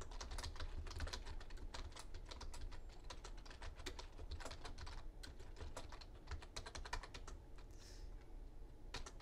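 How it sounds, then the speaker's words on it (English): Rapid, uneven clicking of keys on a computer keyboard continues steadily throughout, close and alone with no talk. "You'll notice I finished typing it and I put in new entry,"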